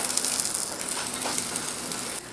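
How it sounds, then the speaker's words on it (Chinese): Chinese toon pancakes fry on a griddle with a steady, close, bright sizzling hiss that runs unbroken throughout. "香椿饼在煎盘里被煎到滋滋作响"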